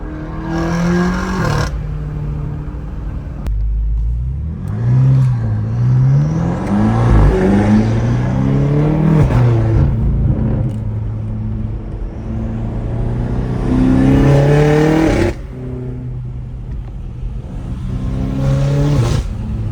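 BMW M5 Competition revving hard through repeated upshifts, each gear change marked by a sharp drop in pitch and crackling exhaust pops, loud and close for the whole stretch with no talking.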